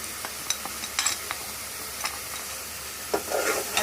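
Chopped chillies and turmeric powder sizzle in hot oil as they are fried for a shrimp and taro curry, a steady hiss broken by a few scraping stirs.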